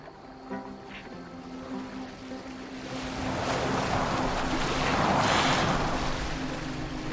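A boat moves across the sea in Assassin's Creed Valhalla, with waves and wind swelling into a broad rushing wash that grows louder midway, over a faint low musical drone.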